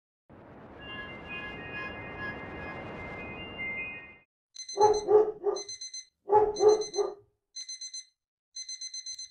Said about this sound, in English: My dog was furious and barking at my phone alarm